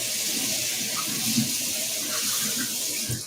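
Tap water runs steadily into a kitchen sink as a knife blade is rinsed, a continuous close splashing hiss with small shifts as the blade moves through the stream.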